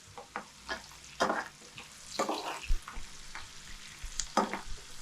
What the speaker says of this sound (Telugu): ఉల్లిపాయలు కూడా లైట్గా వేగాయి.